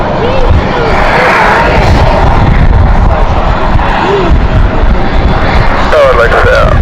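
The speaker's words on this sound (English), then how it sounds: "So the very noisy aircraft that you can hear is Aurigny still" A noisy Aurigny airliner with its auxiliary power unit running at London City Airport: a loud, steady roar and whine fills the whole stretch, while a person speaks over the drone.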